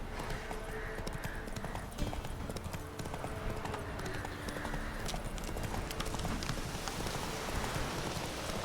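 Horse hooves clip-clop in The Witcher 3: Wild Hunt, a continuous run of hoofbeats with a faint whinny, mixed into a dense, noisy game soundscape that sounds like rain.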